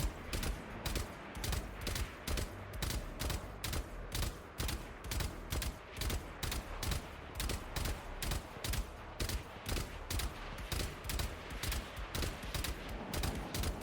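Rapid, evenly spaced gunshots from the video game Valorant, loud and close, firing in a steady rhythmic stream for the whole stretch with no talk.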